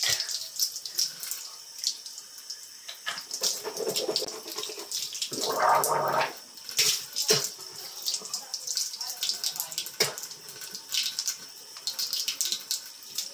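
Hot water runs steadily from a tap with splashing and gurgling changes, a brief louder gush midway, and occasional short knocks.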